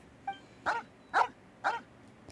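A dog barks in the Genshin Impact video game, three evenly spaced clean barks after a faint short yip, with no talk.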